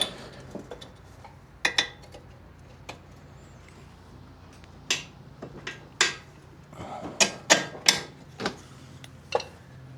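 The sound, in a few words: fitting bolts into a motorcycle suspension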